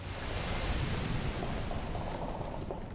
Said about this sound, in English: All I hear is explosions and people dying.